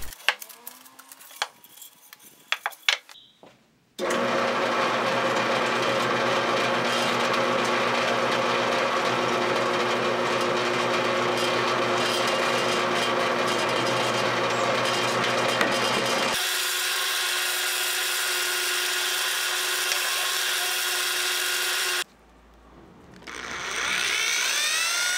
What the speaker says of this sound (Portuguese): usei as furadeiras de bancada e manual